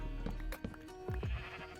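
Sheep bleat in the video game Minecraft, with a few short, wavering calls close together at moderate volume in game ambience.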